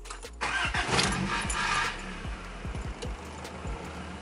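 A Honda H22A engine in a car cranks and fires up, catching with a rough burst that settles into a steady idle with light ticking, near and moderately loud.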